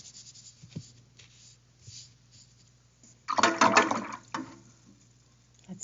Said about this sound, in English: That's me rinsing out my brush.